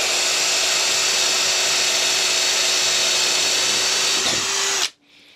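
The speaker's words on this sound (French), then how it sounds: "maintenant voyons le perçage avec un foret de 10 mm de diamètre dans du médium." A Ryobi RDD18 cordless drill boring a 10 mm bit into MDF gives a loud, steady high whine with a constant motor tone for about five seconds, then cuts off abruptly as the motor stops.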